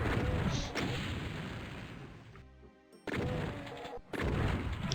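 Heavy shotgun blasts boom in the DOOM video game, a few loud close shots with sharp attacks and short gaps, along with a cut-off pause and crunching impacts.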